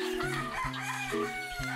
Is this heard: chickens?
yes